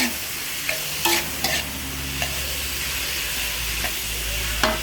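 Seafood is stir-fried in a hot pan with kaeng khua curry paste, producing a constant sizzle broken by several sharp scraping stirs.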